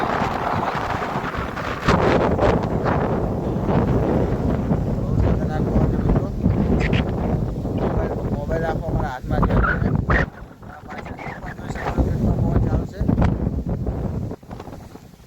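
Storm winds gust hard across a farm field in Gujarat, roaring and buffeting the microphone in heavy surges with brief lulls, while a person speaks over the din.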